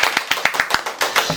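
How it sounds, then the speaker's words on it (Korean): Brisk hand clapping from a small group welcoming a guest at the start of an interview, a quick, even run of sharp claps lasting just over a second. "박수"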